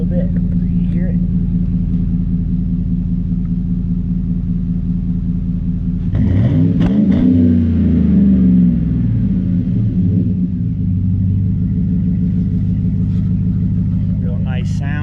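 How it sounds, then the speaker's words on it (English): A 2012 Chevrolet Silverado 4x4 with dual exhaust idles with a deep, steady rumble, then revs up once in a short throaty surge before settling back to idle, close and loud; a voice is heard briefly. "Rev it up a little bit so you hear it."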